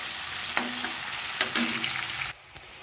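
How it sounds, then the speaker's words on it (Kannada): Onions roast in hot oil for a chicken fry, giving a steady, close sizzle broken by a few soft stirring scrapes, before the sound cuts off near the end. "ಈ ಈರುಳ್ಳಿಯನ್ನು ಎಣ್ಣೆಯಲ್ಲಿ ಚೆನ್ನಾಗಿ ಒಮ್ಮಣ್ಣ ಬರೋವರೆಗೂ ಇದನ್ನು ಚೆನ್ನಾಗಿ ರೋಸ್ಟ್ ಮಾಡಿ"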